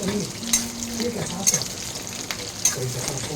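Onion, garlic and dried red chillies frying in hot oil in a pan for cooking greens, a steady close sizzle with occasional sharp crackles and spatters throughout, no talking.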